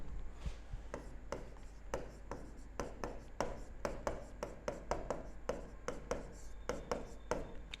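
Chalk or marker strokes on a board during a chemistry lecture, a steady run of short scratchy taps and strokes at close range with a constant low room hum beneath and no speech.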